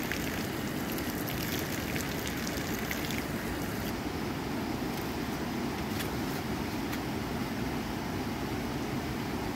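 Morning rain at a campsite falls as a steady, even hiss with faint scattered drips, a continuous wash of sound with no voices.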